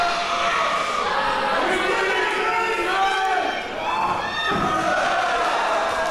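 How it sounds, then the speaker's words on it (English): A wrestler is slammed hard into the ring corner during a mixed tag match, a dull thud rising out of a noisy crowd roar while a commentator talks over it. "Slams her hard into the corner."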